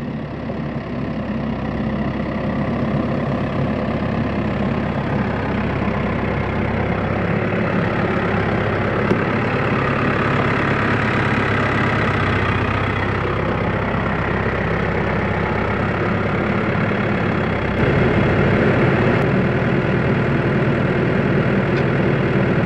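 Tractor engine running steadily with hydraulics and PTO engaged, a loud, continuous low drone that holds close and even throughout, with no talking.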